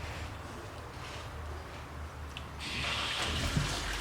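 Water gushes steadily from a car heater core being flushed with a hose, a continuous hissing splash that grows slightly louder and brighter toward the end, with no talking.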